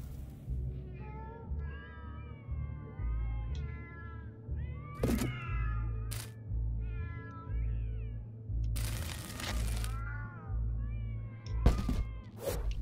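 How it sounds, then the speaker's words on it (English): Several cat meows, some drawn-out and wavering, over a steady low soundtrack from the game South Park: The Fractured But Whole, with a few sharp thumps and a burst of noise midway. "Look at this cat"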